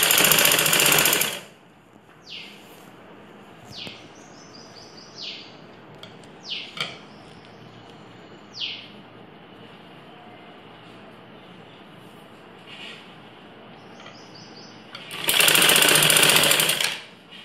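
A sewing machine stitches a ladies' blouse, joining the sleeve and armhole in two loud bursts of rapid whirring at the start and end, with quiet fabric handling and small clicks between.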